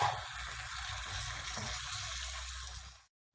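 Potatoes and chicken simmer together in a pot with a little added water, a steady soft bubbling hiss that runs evenly before cutting off abruptly near the end, with no talking.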